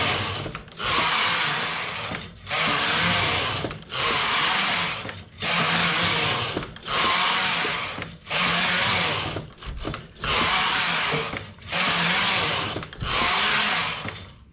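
A knitting machine carriage sweeps back and forth across plain rows, each pass a loud sustained whirring rasp lasting about a second, with brief pauses between passes in a steady rhythm, close and alone.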